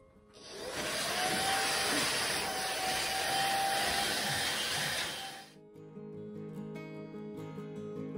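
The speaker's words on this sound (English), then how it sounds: "we're going to vacuum this couch and get all the dirt off of it" A PrettyCare vacuum cleaner cleaning a couch roars steadily for about five seconds, its pitch wavering slightly, then cuts off, leaving faint background noise.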